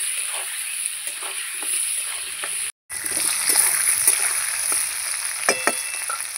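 Potatoes with turmeric frying in oil in a pan, a steady close sizzle with soft scraping stirs and spatters, briefly cut off before resuming.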